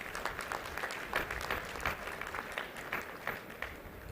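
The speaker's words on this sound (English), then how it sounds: "So a big round of applause to all of you." Audience at a university convocation in India applauds steadily, a dense even clapping from many hands that holds for several seconds without letup.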